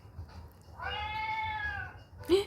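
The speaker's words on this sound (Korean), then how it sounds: "고양이 소리네?" A cat gives a drawn-out, wavering meow lasting over a second, followed by a short sharp second meow, fairly faint against low room hum.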